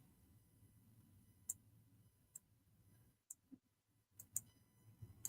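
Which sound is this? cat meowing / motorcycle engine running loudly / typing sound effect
typing sound effect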